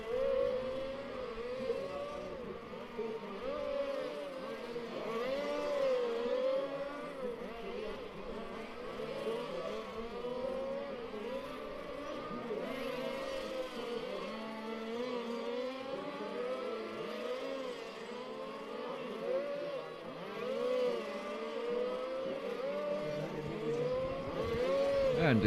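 Race cars lap the track during a Race Car Series final at Bad Breisig, heard as a faint, continuous high engine whine with wavering pitch, staying steady throughout.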